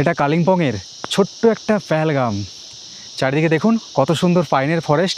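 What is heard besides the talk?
crickets chirping in a pine forest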